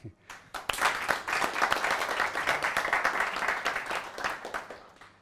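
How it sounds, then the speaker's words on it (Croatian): A festival audience at a sports academy event applauds the organizers, a dense burst of many hands clapping that swells quickly and holds steady for several seconds before thinning out, with no talk over it. "najviše trebali jedan veliki pljesak organizatorima za ovakav događaj"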